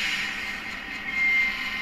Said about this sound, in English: So when I set the brakes, you'll actually hear the air sound.